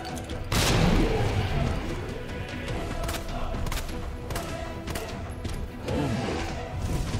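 Grenade blast in Resident Evil 2 during a final boss fight, a loud broadband burst near the start followed by sustained rumbling combat noise, gunshots and further thuds.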